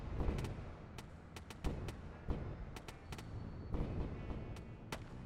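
Ship weapons fire during a space battle in the game Wayward Terran Frontier: sharp impulsive shots recur irregularly, roughly a dozen across the stretch, over a steady low rumbling background, with no talking.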